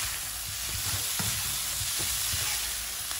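Crispy shrimp stir-fry sizzling in a hot wok, a steady loud hiss broken by scattered clatters and tosses of the food, with no voices.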